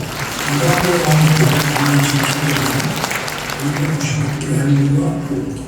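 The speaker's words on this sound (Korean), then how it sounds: "박수!" Audience applause at a church rally, a dense steady clapping that fills the space beneath a speaker's amplified voice, loud and sustained.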